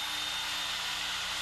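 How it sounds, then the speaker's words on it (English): Drywall being hand sanded with a vacuum dust-control attachment gives a steady, even broadband whoosh with a faint high whine, continuous and unbroken throughout, with no talking. "hand sanding with the vacuum control"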